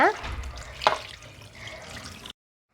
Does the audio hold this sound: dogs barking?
no